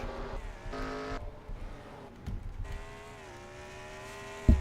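Several race cars in a racing video game slow into the pit lane at Sonoma, engines droning at steady pitch with a couple of bursts of revving and downshifts, fairly quiet and without talk.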